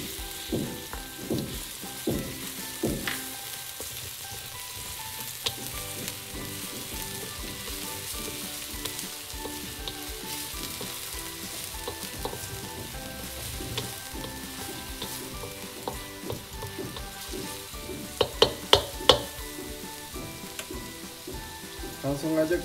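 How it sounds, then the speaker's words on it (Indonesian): Shallots and garlic sauté in a hot pan, a steady sizzle and frying crackle running throughout with occasional stirring scrapes and a few sharper clinks near the end, no talking. "Kita tumis aja ya bawang merah sama bawang putihnya tadi."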